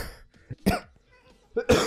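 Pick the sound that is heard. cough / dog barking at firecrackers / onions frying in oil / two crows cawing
cough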